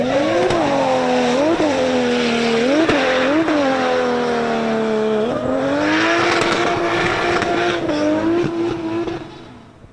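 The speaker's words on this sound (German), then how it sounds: "Mevlut Erbay, auch er mit einem Byrun, setzt sehr, sehr früh die Drift an." A six-cylinder drift car at the Nürburgring Driftcup downhill round, revving hard and sliding with loud, wavering engine pitch, gear-change dips and faint tire squeal, close and continuous throughout before fading at the end.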